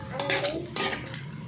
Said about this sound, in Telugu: ఇప్పుడు ఆయిల్ అంతా కాకరకాయ ముక్కలు కలిపేలాగా మంచిగా కలుపుకోవాలండి